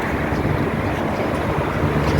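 Strong wind buffets the microphone in a loud, continuous rumble and rush with no speech over it.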